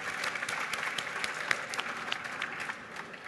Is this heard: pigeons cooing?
no